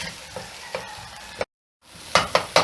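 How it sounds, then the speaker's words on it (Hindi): Spice masala frying and being stirred in a pan for dhaba-style chana dal chicken, with soft sizzling, a brief silent gap, then several sharp spoon scrapes and clatters close by. "ये मसाले की तकरीबन बुनाई हो गई है।"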